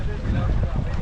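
A boat motoring across the backwaters toward Sambranikodi, a steady low engine-and-water rumble with wind buffeting the microphone throughout, close and continuous.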